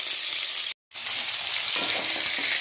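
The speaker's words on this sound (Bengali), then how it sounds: "প্রথমে নুন হলুদ মাখিয়ে চিকেনটাকে আমি একটু ভেজে নিয়েছি" Chicken pieces rubbed with salt and turmeric fry in hot oil with a constant close, bright sizzle, broken only by a split-second dropout.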